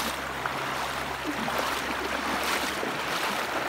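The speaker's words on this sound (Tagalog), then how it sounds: "Tubig everywhere." Water rushes steadily along Palakol River in Floridablanca, Pampanga, a continuous broad wash of flowing current with a low rumble beneath and no voices.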